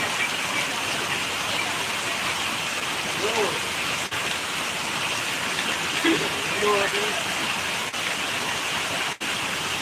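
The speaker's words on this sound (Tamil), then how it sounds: "இப்போ மறுபடியும் மழை பெய்யுது இதுவும் நல்ல சரியான மழை" Heavy rain pouring down in Rajapalayam, Virudhunagar district, a dense, even hiss of falling water that stays loud and constant, with faint voices in the background.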